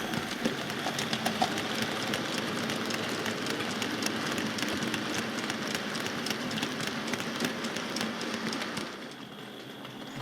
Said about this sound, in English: here we see the same coal train passing through Aliston Junction station